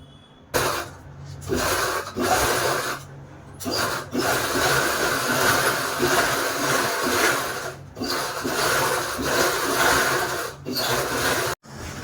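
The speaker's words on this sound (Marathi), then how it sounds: "राऊंड शिवून घेणार आहोत।" A sewing machine stitches a round from a 2.5-inch saree strip for a rainy-season bag, running in long steady bursts broken by a few brief stops, close and fairly loud with no talk.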